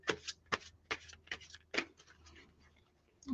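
Tarot cards are shuffled by hand in a quiet room, producing a series of soft, crisp riffling slaps at an uneven rhythm, close and faint, with no talking.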